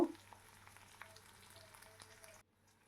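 Garlic with green and red chillies stir-fries in a pan, a soft close sizzle with light stirring ticks after a knock at the start, cutting off abruptly near the end.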